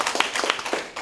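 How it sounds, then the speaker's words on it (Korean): A small audience at a travel talk-concert claps after a speaker's request; a brief, thin patter of scattered hand claps, fairly close, lasting about a second. "박수 한번 주세요."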